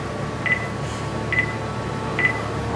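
Three short telephone redial tones sound at even intervals, each a brief bright beep over a steady low room hum, with no voices.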